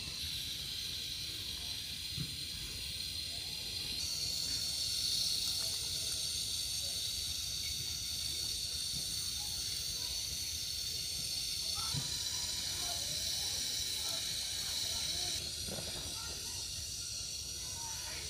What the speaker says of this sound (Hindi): ये देखिए बबल्स बनना शुरू हो गए हैं, तो जस्ट 5 मिनट के बाद हम चेक करेंगे कि अंडे बिल्कुल रेडी हो जाएंगे।